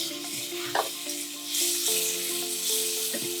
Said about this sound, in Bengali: মশলাটা আমি ভালো করে কষে নিচ্ছি